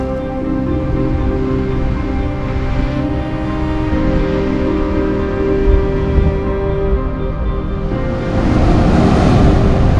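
Ocean waves surge against the cliffs of the Asturias coast, a continuous roaring wash with wind buffeting the microphone and a louder swell building near the end.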